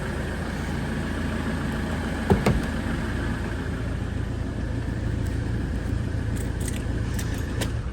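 A 14-year-old Land Rover Defender 110 on a freshly fitted galvanised chassis idles with a steady, even low rumble, nearby; a short clatter like jangling keys sounds partway through and the engine keeps running through the end.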